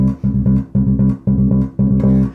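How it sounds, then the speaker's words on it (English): Bass guitar playing a repeating disco, synth-style bass line for a Christmas song, with steady pulsing phrases of punchy low notes, loud and alone throughout. "we play this disco bass line or synth bass line all the way through"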